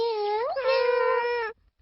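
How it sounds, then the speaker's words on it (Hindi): A cartoon cat gives a single drawn-out meow in a Hindi-dubbed Doraemon episode, loud and close, with the pitch rising and bending midway before cutting off. "म्याऊ।"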